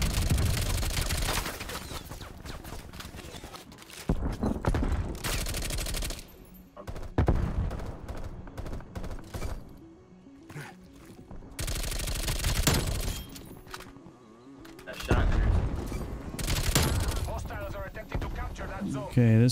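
Bullfrog submachine gun in Call of Duty Cold War firing in rapid automatic bursts, loud and close, broken by brief pauses between sprays, with game effects around it and no speech.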